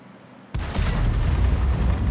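A single heavy artillery shot from an M44 self-propelled gun in World of Tanks: a sudden loud boom followed by a sustained rumbling roar, close and alone.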